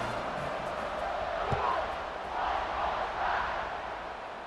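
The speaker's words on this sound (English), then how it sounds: "this crowd is buzzing after that last score" Football stadium crowd during a Georgia State at Georgia Southern game after a score: a steady, moderately distant crowd murmur and buzz with swells of cheering, with no clear voices over it.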